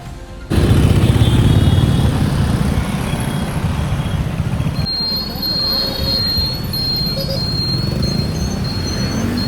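A motorcycle carries riders along a road, its engine and wind noise forming a steady loud rumble throughout, with faint higher tones over the top.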